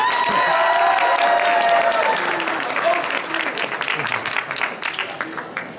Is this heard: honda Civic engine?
no